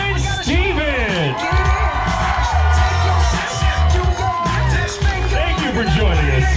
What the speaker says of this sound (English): Big round of applause for our best man and matron of honor, Sarah and Steven.